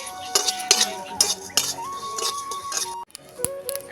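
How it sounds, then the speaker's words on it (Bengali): Spices for chana dal and soybean dhoka dry-roasting in a kadai, the metal spatula scraping and clinking against the pan in a steady rhythm of close, bright strikes, with a brief pause near the end before the stirring resumes. "আমি এটা একটু ভেজে নিচ্ছি।"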